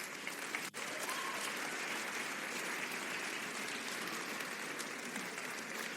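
A church congregation applauds together at a Christmas service, a dense, steady wash of clapping that holds at full strength from start to finish.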